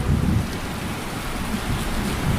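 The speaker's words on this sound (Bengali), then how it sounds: "সকাল থেকেই ঝিরিঝিরি করে বৃষ্টি হয়েই চলেছে" Steady drizzling rain in a cartoon scene makes a constant, fairly loud wash of rainfall with a low, rumbling undertone, heard alone without talking.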